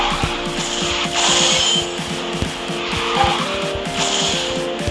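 A race car in the mobile racing game QQ Speed Mobile skids with loud, sustained tire squeal over a revving engine whose pitch rises and falls in quick repeated shifts, close and continuous.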